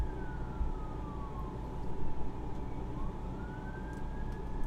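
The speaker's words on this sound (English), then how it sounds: "sorry about the siren." An emergency vehicle siren wails as it passes outside a classroom, faint and distant with slow rising and falling sweeps over a steady room hum, and no one speaks.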